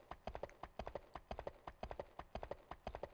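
Horse hooves clip-clopping in the video game Dynasty Warriors 3, a steady rapid galloping rhythm of hoof beats repeating throughout, faint and evenly paced with no speech.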